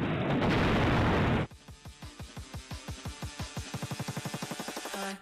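Explosion sound effect: a loud, sustained roaring blast that cuts off abruptly, followed by a long run of rapid booming thuds that speed up into a fast rattling roll.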